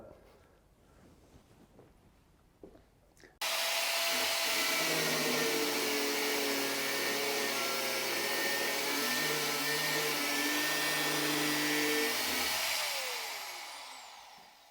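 Grinder in a workshop where an Audi RS4 V8 engine is being fitted into a VW Transporter, starting abruptly after a quiet moment, then a loud, steady whine for about nine seconds before spinning down.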